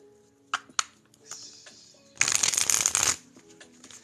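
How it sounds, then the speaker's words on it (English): Tarot cards being shuffled in a riffle, a dense papery flutter lasting about a second after a few light taps and handling clicks, close and clear with no talking. "Shuffle these cards, get this energy moving"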